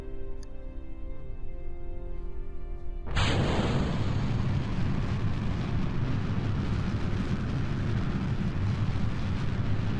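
Solid rocket booster launch in Kerbal Space Program: after three seconds of steady low engine hum, a sudden loud broadband roar ignites and continues as a sustained, powerful rumbling blast to the end.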